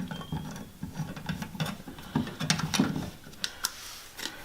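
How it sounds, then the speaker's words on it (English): A screwdriver works a loose screw out of an electrical socket, giving close, faint scraping and ticking clicks in an irregular patter with a few sharper taps toward the end. "This screw is not in very tight, so it can be removed with just a couple of turns of the screwdriver."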